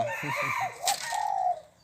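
A bantam rooster crows once, near and loud, its rising-and-falling call lasting over a second, with a brief clucking start and no talk over it.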